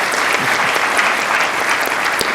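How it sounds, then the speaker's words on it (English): Steady, dense audience applause for speakers at the close of a public health grand rounds session, with sustained clapping from a large crowd filling the whole stretch without any talk. "Let's have another round of applause for our outstanding speakers."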